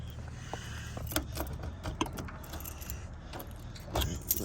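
A bunch of keys jangles and clinks in bursts while someone hunts for the trunk key of a 1968 Ford Mustang S Code 390 GT, with a low steady hum underneath.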